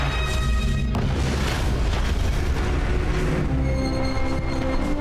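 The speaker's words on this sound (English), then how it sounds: "we try to outrace a tank and its cannon while it blasts away at us" In Call of Duty 3, a tank cannon blasts with a loud, dense booming roar that fills the whole few seconds, heavy rumbling low end and a sustained explosive wash with no talking.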